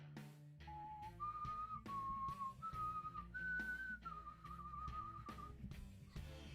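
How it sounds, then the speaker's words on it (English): A person whistles a slow melodic tune, sustained notes stepping up and down, over a quiet background of rhythmic music. "I'm going to start whistling the X-Files"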